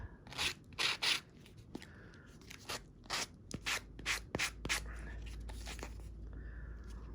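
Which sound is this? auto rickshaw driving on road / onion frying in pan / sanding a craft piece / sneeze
sanding a craft piece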